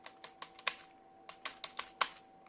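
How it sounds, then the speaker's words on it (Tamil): Fingers tap out words on a computer keyboard, a run of crisp separate keystrokes in two short bursts with a brief pause between, close and alone. "பாருங்கள், டைப் பண்ணுறேன்."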